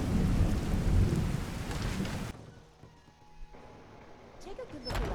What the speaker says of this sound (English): Alright, let's just get out of the rain for now.